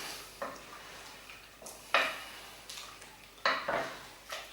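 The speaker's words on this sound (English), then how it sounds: "Give that a stir, turn that down to about a medium heat." A spoon stirs fresh ginger through chicken curry in a pan, giving a series of short scraping, rustling strokes at irregular intervals, close and fairly loud, with a faint sizzle between them.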